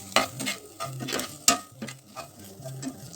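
Shidol paste is stirred and fried in a pan on a medium-low flame, with a spoon scraping and knocking against the metal in an uneven rhythm over a faint sizzle, close and moderately quiet.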